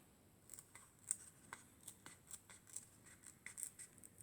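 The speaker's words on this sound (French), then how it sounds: "on vient le plier par la moitié et on vient découper la moitié" Scissors snipping through a 7 cm paper circle folded in half, a series of quiet, close, crisp cuts in an uneven rhythm with no talking.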